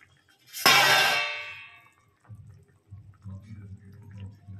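A metal lid drops onto a pot of simmering fish curry with a single bright ringing clang that decays over about a second, then low, quiet bubbling and faint clinks follow.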